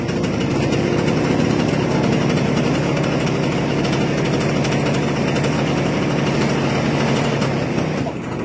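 A 1986 Vespa PS Strada scooter engine runs steadily up close, a loud buzzing two-stroke drone with a fast even pulse, holding constant before cutting off abruptly at the very end.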